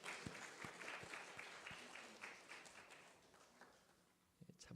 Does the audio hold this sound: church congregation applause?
yes